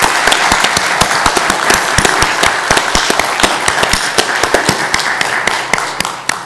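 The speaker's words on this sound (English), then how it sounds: "Krista, we're clapping for you." A lecture-hall audience claps loudly for a woman arriving at the 2019 J. Tuzo Wilson public lecture. The applause is dense and steady, with sharp individual claps standing out near the front, and it carries on unbroken without talk.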